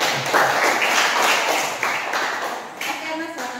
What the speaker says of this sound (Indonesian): Tepuk tangan dulu untuk Erna.